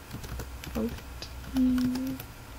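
Soft, quick keystrokes on a computer keyboard while entering code in Roblox Studio, faint and close, with brief tonal beeps or voice-like sounds over them.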